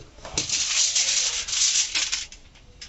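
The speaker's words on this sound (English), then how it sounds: "So I can still go ahead and add this foil paper" Crinkly foil paper handled and rubbed to wrap fish, close rustling and scraping in uneven bursts over a few seconds.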